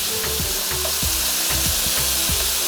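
Chicken pieces frying for curry in a hot pan give a loud, continuous hiss and crackle, with periodic scraping or stirring knocks against the pan and no voices over it.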